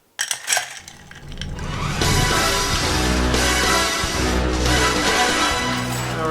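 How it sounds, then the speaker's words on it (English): Ice stirred in a mixing glass with Wild Turkey 101 rye for an Old Fashioned: a few sharp clinks of ice dropping in, then a steady rattling swirl of cubes against glass that carries on close and fairly loud to the end. "Just going to get a little ice in the mixing glass and give it a stir."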